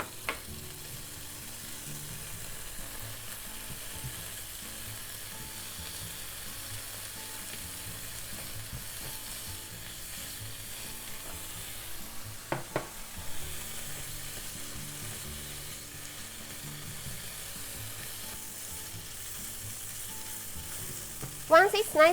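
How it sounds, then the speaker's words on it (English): Sausages sizzle and crackle steadily in a frying pan over medium heat with no oil, a soft continuous hiss with occasional scrapes and clatters of a utensil. "Now, let's saute the sausages. Heat up frying pan over medium heat."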